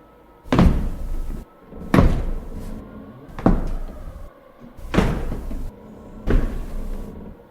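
Wide, robust double door in a video game knocked or thudded repeatedly, five heavy wooden thumps with short hollow decays, evenly spaced and close up, with no speech.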